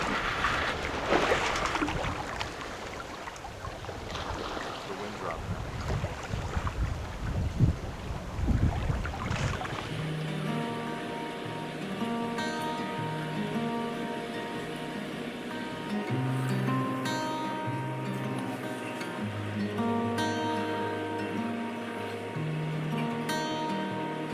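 A sailboat rolls at sea under wind, with rushing wind and water wash loud at first, then a steadier hum and creaking from the boat as the motion continues, no talking.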